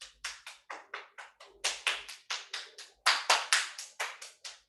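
Bare hands clap and slap down the arm and body in a quick, steady series of sharp, close smacks during a Kemetic yoga fusion flow, with no talking.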